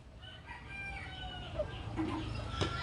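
Gamecocks at a small fighting-rooster farm crow and cluck over a steady low background hum, several calls overlapping at moderate distance with a louder crow near the end.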